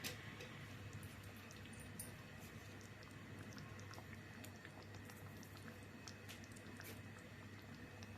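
A soft, steady bubbling and simmering of a pot of chicken gravy continues throughout, with faint scattered ticks and pops, fairly quiet.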